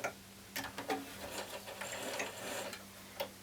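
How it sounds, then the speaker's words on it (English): A sewing machine stitching elastic onto a lolita underbust jumper skirt, a faint steady mechanical whir with a few soft clicks and taps. "the first elastic sewn on."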